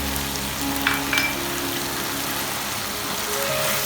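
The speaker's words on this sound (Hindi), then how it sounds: "और इनको करेंगे अच्छी तरह फ्राई" Tomatoes and green chilies fry in a pan for a spicy karela gosht over a slow flame, giving a continuous soft sizzling hiss with faint background hum.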